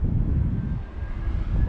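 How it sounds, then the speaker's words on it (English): An airplane flies in overhead near a coastal hiking trail on Madeira's easternmost point, a continuous low engine rumble with steady broadband roar, fairly close and alone without talk. "And we've even got a plane coming in."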